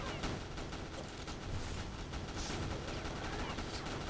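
Rapid gunfire in the shooter game CrossFire during a zombie mode match, a dense continuous rattle of shots with no letup.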